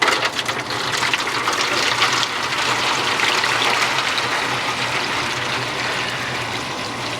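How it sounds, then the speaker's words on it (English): Hot tap water pours steadily into a water pan set over a heat deflector in a barbecue cooker, a close, continuous gushing splash with no talk. "Hot tap water."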